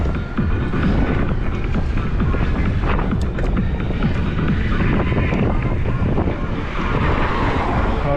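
Spring wind near Feodosia in Crimea buffets the microphone with a loud, continuous roaring rush across the whole stretch, steady gusting with no pauses.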